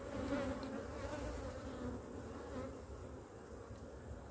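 Honey bees hum around an open hive during beekeeping, a dense, steady, low buzzing swarm close by with slight swells in loudness and no talk.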